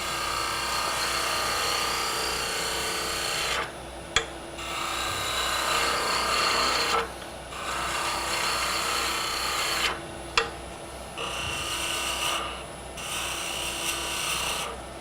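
A wooden knob spinning on a lathe while a gouge cuts it, giving a loud, steady rasping scrape. The cuts break off in several short pauses, and faint knocks mark the tool being lifted and set back against the wood.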